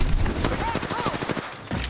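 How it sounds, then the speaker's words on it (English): Gunfire in the battle royale shooter Apex Legends: rapid bursts of shots crackle in a fast rhythm under game sounds, with a voice talking over part of it. "They're shooting at me."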